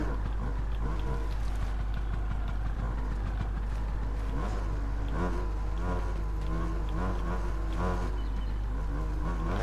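A Honda CR 250 two-stroke motocross bike in the racing game MXGP Pro drones and revs steadily and loudly, its pitch rising and falling throughout, with no one speaking.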